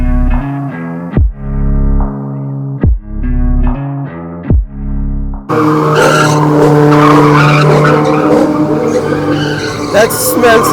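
Race car tires squeal and skid at a drag meet, a loud burst of burning rubber under music and crowd noise, with engines roaring close.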